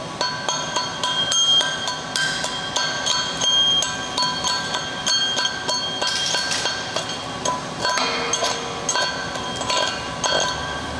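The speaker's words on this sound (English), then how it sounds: "Take my chipping hammer." Chipping hammer knocking slag off an overhead stick weld in the 4G position, a fast run of sharp metallic clinks and taps repeating steadily throughout, close and fairly loud.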